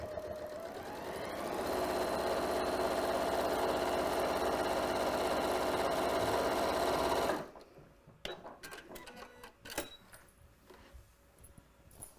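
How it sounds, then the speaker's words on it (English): A sewing machine running a straight top stitch, a loud steady mechanical whir held for about seven seconds, then stopping abruptly into quiet with a few small clicks and handling sounds. "I'm moving my needle all the way to the left here so that I can get a nice straight stitch"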